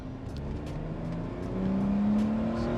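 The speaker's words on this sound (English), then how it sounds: "Got a nice exhaust note there and a decent amount of power." Mercedes R170 SLK roadster with a 215-horsepower engine and 6-speed gearbox accelerating, its exhaust note rising steadily in pitch as revs climb, close and clear with no talk.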